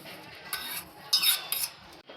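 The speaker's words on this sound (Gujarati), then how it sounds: "હવે આપણે ગોળ નાખશું।" Jaggery dropped into ghee in a kadai while making Gujarati sukhdi, heard as a few short metallic scrapes and clinks of a spoon against the pan, close and fairly quiet, with no talking.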